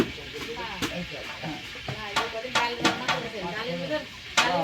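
Khichuri cooks in a pot while a spoon scrapes and stirs it in repeated strokes, with a low sizzle running continuously underneath.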